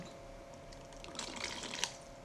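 Liquid is poured into a glass for a mixed drink, a soft trickling splash that builds briefly with a few drip-like spatters, close and fairly quiet with no voices.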